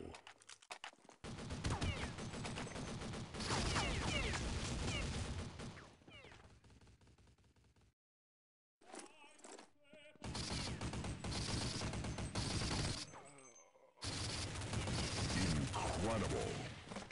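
Lightning SMG-1 submachine gun in Counter Strike Online fires in long, loud, rapid bursts, separated by a brief silence and a few short gaps, with scattered game effects between the volleys.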